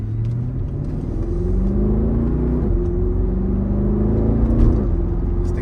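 A Mercedes-Benz SL63 AMG engine drones steadily, its pitch dropping then climbing as it downshifts and the engine pulls harder, with no one speaking.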